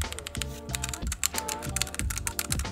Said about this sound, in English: it is quite amazing from the typing. It clicks well.